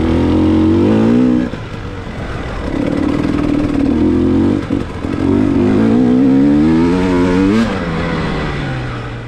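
KTM XCW dirt bike ridden hard around a motocross track, its engine revving loud and close with rising and falling pitch as the throttle opens and closes, a steady buzzing roar throughout.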